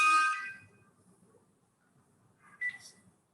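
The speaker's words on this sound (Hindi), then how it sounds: "किसका फोन बज रहा है?" Mobile phone ringing indoors in an office, two short bright electronic ring tones, the first at the start and another near the end, with a low murmur between them.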